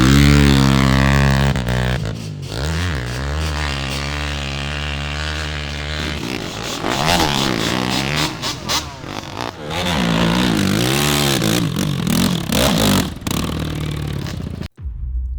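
Hillclimb racing motorcycles rev hard and loud, engine pitch rising and falling in repeated bursts with rough clatter, close by and steady for about fifteen seconds before a sudden cutoff near the end.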